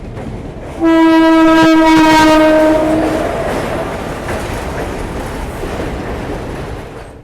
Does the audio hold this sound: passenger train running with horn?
yes